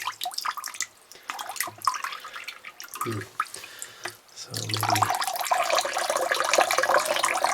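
Water gushes and splashes out from the bottom drain of a rusty well-water pressure tank, a steady rushing stream after a few softer drips, with a brief spoken word.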